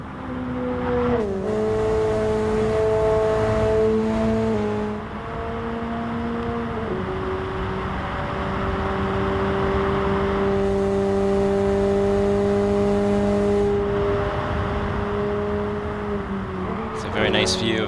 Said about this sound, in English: Very nice view of the Roadster flying down the expressway on a Tokyo afternoon